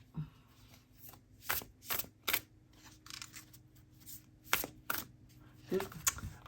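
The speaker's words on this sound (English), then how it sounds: "I'm going to pick one card from this deck, jiggle it a little bit." Oracle cards picked from a deck and jiggled, giving a run of short papery flicks and riffles in uneven bursts, close and fairly soft against a quiet steady hum.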